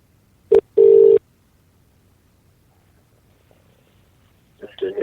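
Phone keypad tones sound as a call is placed back during a radio phone-in, one short beep and then a longer one, loud and clean, followed by near silence and a brief start of noise.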